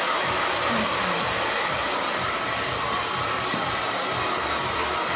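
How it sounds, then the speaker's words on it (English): A handheld hair dryer blasts loud and close while a stylist blow-dries a client's hair without a nozzle, a dense unbroken roar of rushing air with no pauses or talking. "At this point, I don't want to direct it, I just want to get the hair dry."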